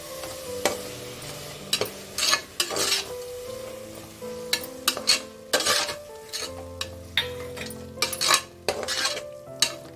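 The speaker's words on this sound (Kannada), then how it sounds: "ಫ್ರೈ ಮಾಡ್ಕೊಳ್ಳಿ ಒಂದು ನಿಮಿಷ" Masala frying with a spoonful of yogurt for brinjal rice gives a close, steady sizzle broken by frequent metal spoon scrapes and clinks against the pan in an uneven rhythm, with no talking.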